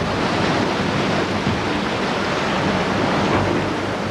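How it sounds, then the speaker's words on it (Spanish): Loud, continuous ocean surf washes in a dense, steady roar close to the microphone, with no voices. "Las olas se forman cuando el viento sopla sobre el mar."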